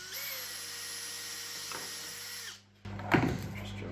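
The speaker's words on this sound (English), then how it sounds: "Now I'll find the right drill bit and we'll drill some holes." A high-pitched power drill whines steadily for a couple of seconds, stops, then a short rattling burst follows as it starts again, drilling holes in a lathe enclosure.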